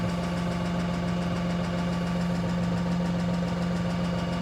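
An LS XR3140H tractor engine with an EGR fault idles steadily at close range, a continuous even drone with a faint rhythmic knock and no voices.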